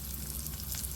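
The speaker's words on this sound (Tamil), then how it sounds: "நல்லா பொரியட்டும்." Urad dal and chana dal frying in hot oil, a soft continuous sizzle and crackle heard close up and fairly quiet, with no voices.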